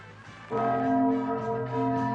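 A bell chime, church-bell-like, strikes once and rings on with a sustained, slowly pulsing tone that stays loud and clear to the end, with no talking over it.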